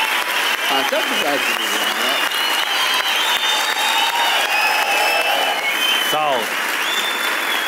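Studio audience applause on a Turkish TV comedy talk show, dense and steady throughout, with a host speaking over it at moments.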